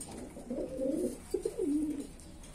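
A large grizzle male pigeon coos in a few soft, rolling phrases, close and fairly clear against a quiet background.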